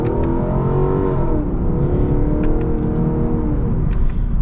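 Heard from inside the cabin, the V8 of a 2020 Lexus LC 500 swells in a loud rising roar as the car accelerates, climbing in pitch through a gear and pulling again, with no talking.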